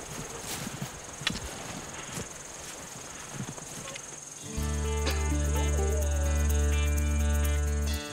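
Horse hooves clip-clop in a mountain setting in the Pyrenees, a few soft scattered hits before a steady low hum takes over, with no clear talking.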